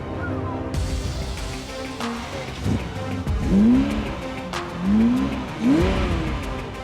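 A 1990 Ferrari Testarossa revs nearby, its engine rising and falling in three drawn-out swells over a rumbling idle, with people talking in the background.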